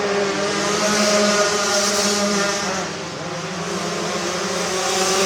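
Racing kart engines at the Texas Kart Nationals drone loudly and steadily throughout, a dense continuous roar with slight dips and swells as the pack passes.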